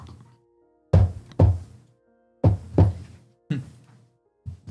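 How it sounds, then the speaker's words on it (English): Knocking on a cart door in a fantasy tabletop game: paired heavy knocks in three close groups of two, with a final quieter one, loud and near, separated by silence. "do you knock on the door?"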